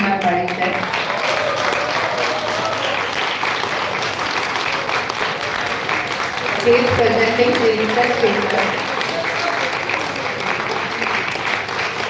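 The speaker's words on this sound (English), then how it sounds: "I hope you will be clapping louder" Audience applause rises for a professor introduced to present a research paper at a management school event, a steady wash of clapping under someone speaking over a microphone, swelling a little louder midway.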